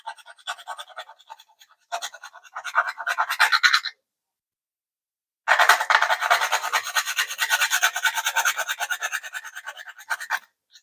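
Whole nutmeg grated for cranberry sauce gives a close, dry rasping scrape in quick rhythmic strokes, two bursts separated by a brief pause, with no talking.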